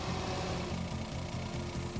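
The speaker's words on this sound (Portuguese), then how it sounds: "Dê partida no motor" Car engine with an EEC-V electronic fuel injection system running at idle: a steady low, pulsing rumble with a regular throb, close and continuous, no voices.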